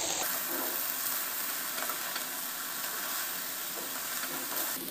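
Peas usli with coriander is stirred in a frying pan, giving a faint, steady sizzle with soft scraping and rustling from the mixing throughout.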